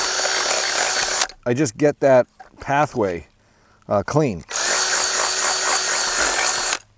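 A power drill with a small bit bores a bolt hole through a piece of wood for a post anchor, whining steadily at close range. It stops while someone speaks briefly in the middle, then starts again.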